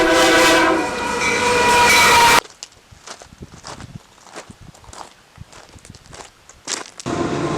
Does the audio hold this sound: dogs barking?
no